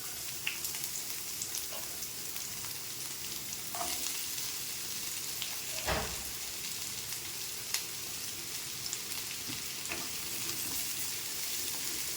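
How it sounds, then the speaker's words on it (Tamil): Chopped onions sizzle steadily in hot oil in a pan for paneer butter masala, a continuous close frying hiss broken by occasional spatula scrapes and light clinks, with no voices. "வெங்காயம் வதங்கட்டும்"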